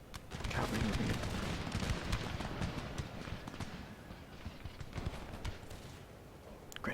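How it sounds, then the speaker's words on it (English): Cavalry horses trot and gallop in a Napoleonic-era Empire: Total War battle, a dense rumble of hooves with scattered musket-like cracks, fairly faint and continuous. "Cavalry moving in."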